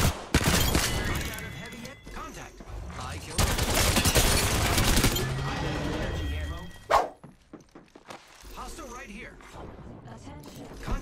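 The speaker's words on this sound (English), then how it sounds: "the Hemlock is a pretty powerful gun, especially after switching back to console" Hemlock rifle firing in a console shooter game, rapid bursts of loud gunfire in clusters with short pauses, dense and close, with a voice talking over parts of it.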